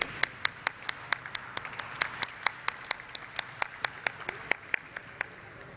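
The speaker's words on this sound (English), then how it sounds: "Let's have a huge round of applause, please." Applause at the stock listing ceremony of Aadhar Housing Finance Limited: a modest room of people clapping, with sharp individual claps standing out over a thin, steady background of hands.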